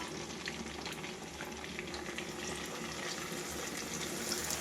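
A masala paste of ground cashews and poppy seeds sizzles steadily in a pan over village-style cooking heat, a constant close hiss and crackle with no voices.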